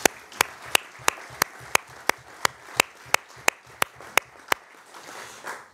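At a town council meeting in a newly restored town hall, a single person claps in slow, evenly spaced, sharp beats, about fifteen in a row, over quiet room murmur before stopping near the end.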